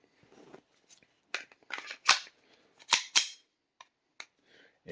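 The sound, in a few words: FN 502 .22 pistol dry-fired on a snap cap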